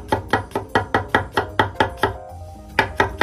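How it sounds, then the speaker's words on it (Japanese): Knife chopping peeled garlic into thin slices on a cutting board, with about a dozen quick, sharp, evenly spaced knocks close up and one short pause before the rapid strokes resume. "まずはニンニクを切っていきましょう。"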